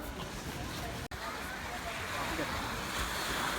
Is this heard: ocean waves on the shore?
yes